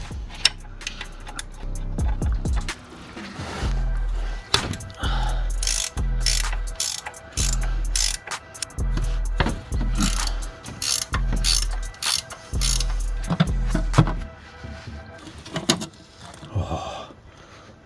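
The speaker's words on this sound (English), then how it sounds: "I've just got to undo these two bolts there" A ratchet clicks in repeated bursts undoing bolts behind the bell housing of a VW Polo 1.2 TSI, each run of rapid ticking separated by short pauses, close and fairly loud, with occasional metallic clanks.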